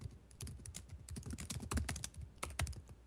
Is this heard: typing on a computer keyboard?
yes